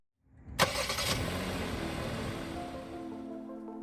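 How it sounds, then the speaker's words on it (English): A 2022 Kia Seltos SUV starts up after a moment of silence, with a sharp onset followed by a steady, broadband engine hum that stays even and fairly close. "This is the Kia Seltos, the smallest, lightest, all-wheel drive SUV that Kia has to offer."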